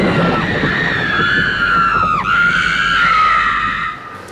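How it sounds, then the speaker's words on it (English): A person screams loudly and close, one long sustained shriek with a sharp dip in pitch partway through before it trails off. "that was you screaming"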